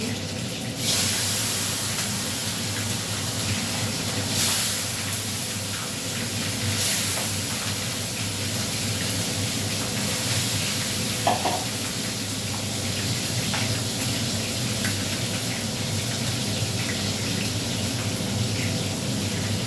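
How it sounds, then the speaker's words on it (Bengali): Fish frying in a pan gives a steady broad hiss for the whole stretch, close and even, with an occasional faint clink and a brief louder burst. "আর মাছটা এখানে ভেজে দিচ্ছি।"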